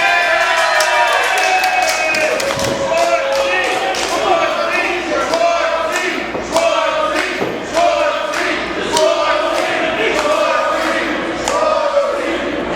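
A wrestling event crowd cheers and claps steadily throughout, with thumps from the ring and spoken commentary over the noise.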